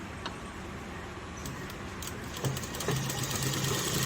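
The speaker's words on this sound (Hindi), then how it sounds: "अब हम सिलाई यहाँ से शुरू करेंगे और अगले कट पे वहीं पे रोक देंगे।" A sewing machine stitching an Afghani salwar gives a steady, close mechanical whir with faint clicks, running continuously and alone.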